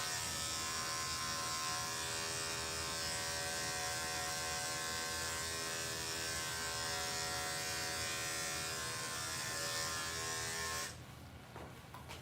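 Electric dog clippers fitted with a 10 blade buzz steadily and loudly while trimming a doodle's sanitary area, a constant close motor whine that cuts off near the end.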